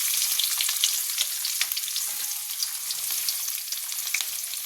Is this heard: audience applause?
no